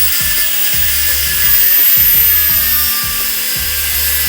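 A power tool cuts through the threaded rod of a camber arm for an 8th-generation Honda Civic, a loud continuous grinding whine with a repeating pulsing rhythm, heard alone.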